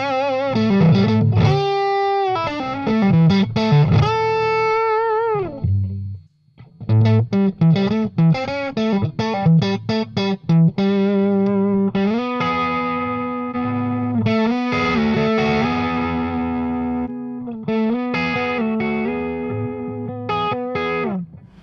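An electric guitar played through a Mooer Preamp Live with the boost switched on, giving a loud, distorted, sustained tone with riffs, held notes and chords, a short pause partway through, no talk.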